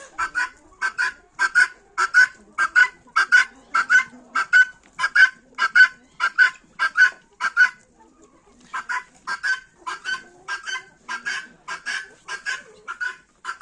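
Guinea fowl call close by in a rapid, harsh, rhythmic series of repeated cries, pausing briefly before the chant resumes at the same steady pace.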